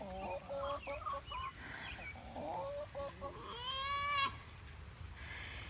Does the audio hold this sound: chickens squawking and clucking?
yes